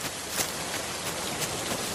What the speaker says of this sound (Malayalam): മഴ ചാറാൻ തുടങ്ങി.